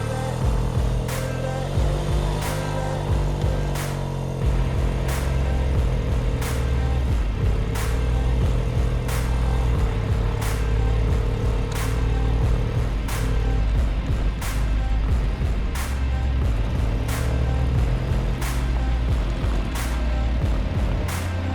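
Restarted Motobécane Mobyx moped, sitting unused for over 40 years, idles steadily with a close, continuous low engine drone and a regular ticking rhythm, running alone without voices.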